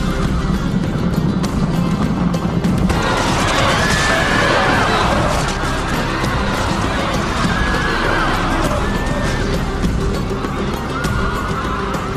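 Cavalry horses gallop and neigh in a video game recreation of the Roman battle of Mons Graupius, Caledonian riders against Roman horse, with dense continuous hoofbeats, repeated whinnies and clashing battle noise throughout, loud and busy.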